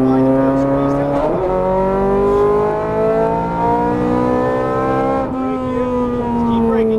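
A Ferrari 430 Scuderia accelerates on a track, its loud, high engine note climbing steadily through the revs, dipping briefly at a shift, then rising again, heard close up from inside the car.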